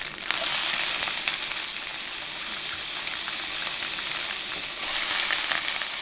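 Firm tofu and dried shrimp stir-frying in hot oil for pad thai give a steady, loud, close sizzle with a few brief swells of crackle throughout, and no talking.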